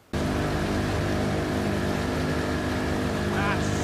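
Boat engine in the video game Battlefield: Bad Company at a dam, a steady loud motor drone that starts abruptly and runs without a break, with a few brief sounds on top near the end.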